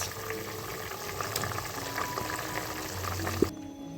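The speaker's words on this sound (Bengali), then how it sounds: "দেখো ঝোলটা ভালো করে ফুটে গেছে অনেকক্ষণ ধরেই ফুটছে" A thin pabda fish curry broth bubbles in a pot at a steady, soft, continuous boil, heard close and quiet with no talking, before cutting off abruptly near the end.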